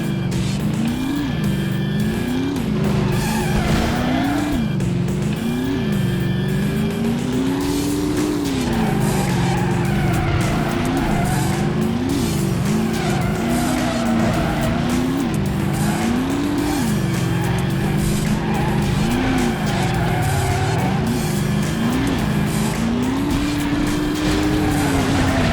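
A racing video game car drifting with the handbrake, its engine droning and rising and falling continuously while tires squeal and skid throughout, loud and steady with no talk.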